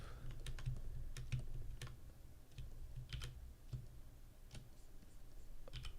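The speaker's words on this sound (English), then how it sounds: "that must be the keyboard sound. Yeah, like I'm clicking on my keyboard." Fingers typing on a computer keyboard, quick irregular bursts of sharp clicks close to the microphone, with short pauses between runs of keystrokes and a low background hum.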